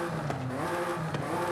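An Audi Quattro engine in Forza Horizon 5 drones steadily with a raspy, buzzing tone, holding a fairly constant pitch with brief surges, close and alone with no talk.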